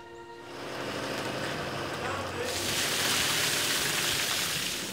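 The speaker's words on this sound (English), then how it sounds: "Little light rain." Light rain pattering outdoors on a bass fishing boat on a lake at Knoxville, a soft broadband hiss that swells louder midway, with wind and faint voices mixed underneath.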